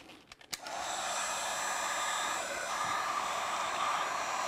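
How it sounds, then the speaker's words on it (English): A heat gun blows steadily across the surface of poured epoxy, a close, even rushing hiss with a few brief clicks and bumps at the start before settling into a constant roar. "gently moving the heat gun back and forth across the top of the epoxy"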